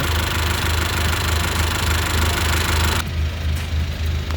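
A 2020 Mercedes-Benz E220 d coupe's diesel engine idles in the open engine bay, a loud, even, close-up clatter with a steady low hum, the brighter upper noise dropping away partway through.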